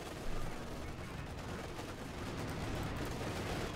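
Tank cannon fire from an IS-2 and a Panther in Company of Heroes 2, heavy booming shots blended into a dense, continuous battle din with no voices.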